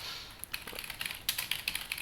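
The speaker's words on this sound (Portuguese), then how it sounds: "eu vou digitar qualquer coisa aqui só para vocês verem" Rapid typing on a computer keyboard while entering text into a text box in Adobe Illustrator, with quick irregular clicking keystrokes that come close and fairly quiet with no talk.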